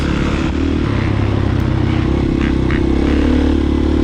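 A dirt bike runs a loop trail through Pachaug forest on a badly worn rear tire. Its engine drones steadily and close, with a constant mid-throttle rumble and light clatter, and no one talks.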